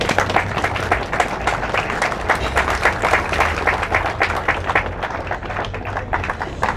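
Audience applause at a Mr. Peanut funeral celebration in Wilkes-Barre, honoring people who wore the Mr. Peanut costume; steady, dense clapping from a crowd throughout, with a low hum underneath.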